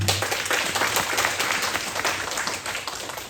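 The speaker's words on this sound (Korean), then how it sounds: "2026년 새해를 허락하신 하나님 앞에 감사함으로 박수로 영광 드리겠습니다" A congregation claps together in thanks at a 2026 New Year thanksgiving church service, a dense, steady patter of many hands that holds for a few seconds without anyone speaking.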